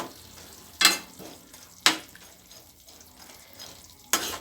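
Boondi for bakery-style laddu stirred in a pan over a low flame, with three sharp scraping clacks of the spoon against the pan standing out over a faint steady sizzle, close by and without talk.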